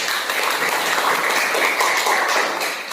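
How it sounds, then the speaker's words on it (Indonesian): A classroom of students claps together, a dense, steady patter of applause lasting a few seconds with no talk over it. "Iya, tepuk tangan semua."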